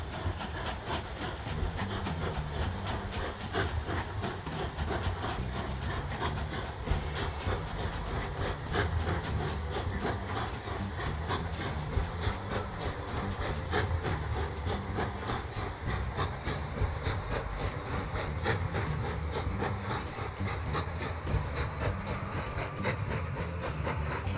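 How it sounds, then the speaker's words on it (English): Lumber trains moving back and forth in the railway-building video game Mashinky, giving a steady mechanical rumble with hissing and rapid clickety-clack ticks that runs evenly and unbroken throughout. "a couple of lumber trains moving back and forth a little bit"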